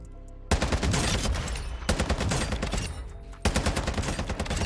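F-Tac Ripper fire in Call of Duty Warzone: dense, rapid automatic bursts, loud and close, in three strings separated by short gaps, with no talking.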